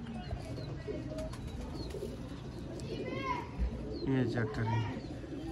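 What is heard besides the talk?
Sialkoti pigeons cooing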